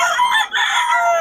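Wet chickens cackle and crow loudly close by in the rain, overlapping shrill calls with a brief pause midway.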